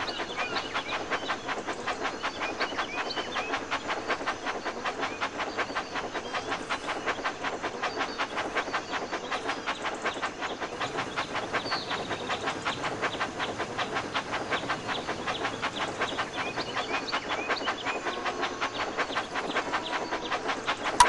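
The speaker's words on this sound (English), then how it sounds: "Look how wonderful your train set is." A Thomas and Friends toy train in a video game runs steadily along its track through a mountain boulder chase, giving a continuous rapid clickety-clack with a hissing wash, moderately loud and unbroken for the whole stretch, with no talking.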